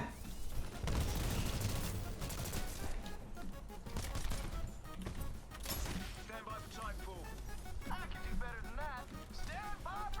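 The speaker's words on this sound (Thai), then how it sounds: "ยิงไปก่อน" Rapid bursts of gunfire and booming explosions from a Titanfall 2 firefight fill the clip loudly and continuously, with weapon sounds and whooshing effects layered densely throughout.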